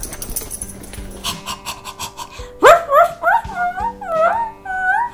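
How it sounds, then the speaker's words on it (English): A dog pants and gives a series of high, wavering whines begging for bacon at a breakfast table, several close nasal cries that rise and fall over a few seconds. "No, Earl, this is human food. It's not for dogs"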